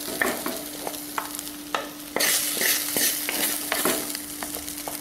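Okra being stir-fried in a clay pot, with a spatula scraping and stirring through the pieces in repeated close strokes over a steady sizzle that grows louder partway through.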